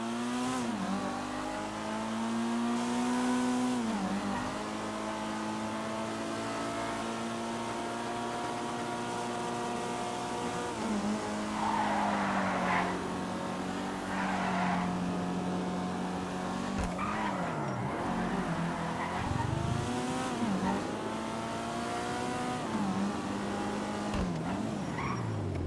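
Flash GT race car test driven in a video game, engine revving loudly through gear changes with rising and falling pitch, tires squealing in several skids.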